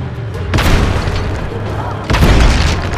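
Tank cannon blasts and explosions from the video game Just Cause 3 fire in two loud, booming bursts with heavy low rumble that fills the whole clip.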